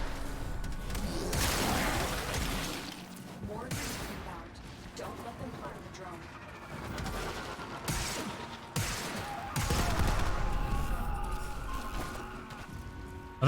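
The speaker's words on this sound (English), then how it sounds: "Not sure what that guy's shooting." Gunfire rattles in the Warframe video game, bursts of shots and booming blasts rising and falling over a rumbling background, with a voice talking at points.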